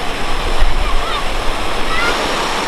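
Broad, steady roar of a waterfall at a dam, with rushing water noise filling the scene throughout and no clear breaks, loud and close.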